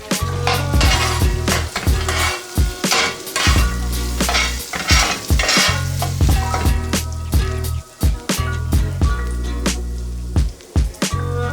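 Beef and cheddar with processed cheese being chopped on a flat-top griddle: a steady loud sizzle with repeated sharp metal scraping and clanking strikes throughout, no voices.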